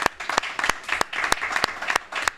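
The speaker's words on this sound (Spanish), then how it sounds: "Mario, por favor, un aplauso para Mario" Audience applause at a festival event: a lively burst of many hands clapping, with sharp individual claps standing out over a dense clatter, moderately loud and continuous.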